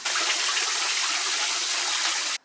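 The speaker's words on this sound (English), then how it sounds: "We have a large blue valve for draining all of our water." Water gushing out of an RV fresh water tank drain valve, a steady, loud hissing rush that holds constant and then cuts off abruptly at the end.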